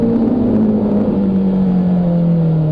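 A Suzuki Hayabusa motorcycle engine drones loud and close, holding a steady rev whose pitch eases slightly downward, with no talk over it.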